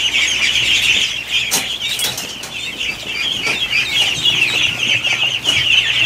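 Ducks kept in a pen with ducklings and geese stir around in the morning, with steady bright chirping and peeping, occasional wing flaps and rustling, close by and continuous with no talking.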